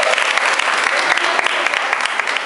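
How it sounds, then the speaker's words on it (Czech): Dense, steady applause from a crowd cheering a race participant at an outdoor results ceremony after a training event, loud and continuous for the whole moment with voices mixed in. "Takže jí taky zatleskám."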